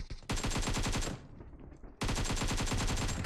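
Rapid automatic AK rifle fire in a competitive shooter match, two loud sustained bursts of evenly spaced shots separated by a brief lull.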